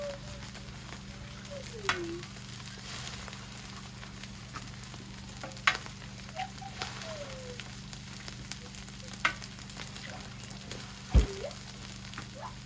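Eggs are scrambled into rice frying in a pan for wild duck fried rice, a steady close sizzle broken by occasional scrapes and clicks of a utensil against the pan.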